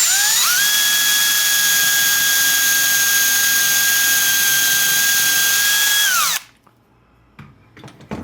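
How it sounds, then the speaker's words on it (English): A power drill bores into a wooden block, whining loudly and steadily for about six seconds, pitch rising as it spins up, then stops abruptly, leaving faint handling noises. "And then you can start your drilling."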